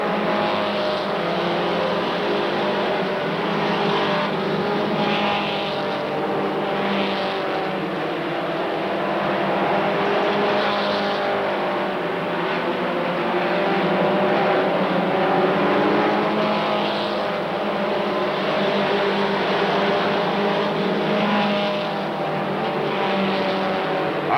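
Race cars roar around the oval at Rockford Speedway, a loud continuous engine drone that swells and recedes in waves as the pack circles, heard from trackside.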